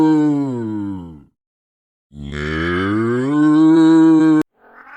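A cow moos twice in long, loud, drawn-out calls with a short silent gap between them, and a third moo begins faintly at the very end.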